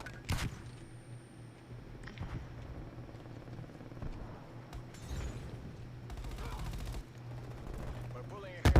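Gunfire in a video game team deathmatch: bursts of rapid shots and occasional single cracks over a constant game hum, with a loud burst at the very end.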